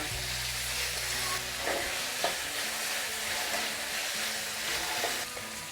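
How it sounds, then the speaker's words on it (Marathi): Chopped onion and large tomato pieces sautéing in a pan, a steady moderate sizzle with scraping stirs now and then, close and without talk. "मोठा मोठा काप करून आता हे चांगलं आपण परतून घेऊ"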